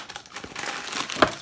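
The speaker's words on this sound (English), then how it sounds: "Pancake mix will open." Bag of pancake mix being opened, a brief crinkling and rustling of packaging with a sharp tear near the end, under soft background voice.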